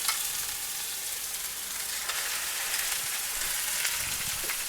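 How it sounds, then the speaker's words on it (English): Beef teres major searing in hot tallow gives a steady, loud sizzle and crackle of frying that holds from start to finish with no talking. "the tallow is up to temperature now, so I'm going to put this in here."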